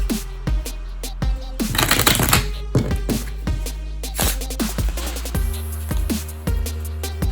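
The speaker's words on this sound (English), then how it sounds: "I'm going to shuffle up the deck just like this." Playing cards being shuffled repeatedly, with crisp riffling bursts and sharp taps as the deck is squared, loud and close, no talking.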